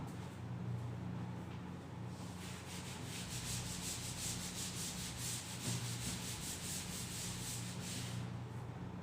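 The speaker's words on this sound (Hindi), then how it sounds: "इधर का मैं इतना पार्ट अभी रब कर दे रहा हूं" A teacher wipes writing off a classroom board in steady back-and-forth rubbing strokes, a soft scratchy swishing that repeats rhythmically for several seconds under a low constant hum, with no talking.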